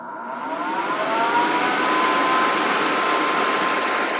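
A nail dust vacuum bought from AliExpress runs steadily nearby, spinning up over the first second into a loud, even whooshing hum with a thin high whine, with no talk.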